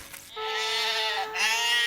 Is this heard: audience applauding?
no